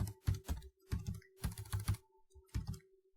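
Python code being typed on a computer keyboard: quick clusters of close, crisp key clicks in short bursts with brief pauses between them, heard alone without talk.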